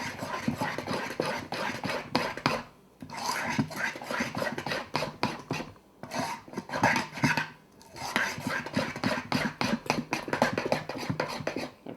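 Dried herbs being stirred into focaccia dough, a rapid run of scraping, clinking utensil strokes against a bowl in three bursts separated by short pauses, fairly close and loud.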